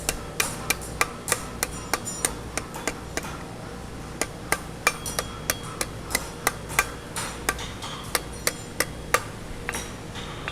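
Blacksmith hammering a horseshoe on an anvil to cup it, about thirty sharp ringing metallic strikes in a steady, slightly uneven rhythm, close and clear over a faint background hum.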